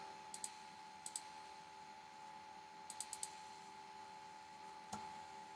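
A computer mouse clicks in small quiet groups, a few crisp single and double clicks spaced out over several seconds against a faint background hum, with no speech.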